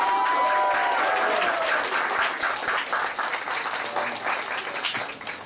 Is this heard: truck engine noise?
no